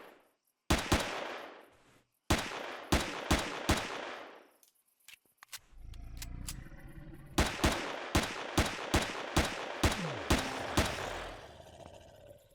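Pistol gunfire in the sci-fi survival game Empyrion Galactic Survival, sharp single shots fired in quick bursts with short pauses, loud and close, then a long run of rhythmic shots over game ambience.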